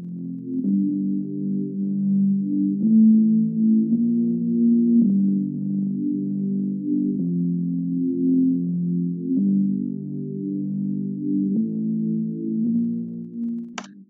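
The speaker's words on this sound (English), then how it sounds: "I made this synth bass" Synth bass built in Harmor from an adjusted church organ preset: warm, sustained low organ-like tones that glide through chord changes in a steady, continuous line with no voices over it.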